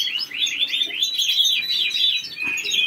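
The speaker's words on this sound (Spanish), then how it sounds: "Os voy a enseñar el vídeo del pájaro" A pet bird chirping from a video played back, rapid bright tweets and trills running continuously and fairly loud, without speech.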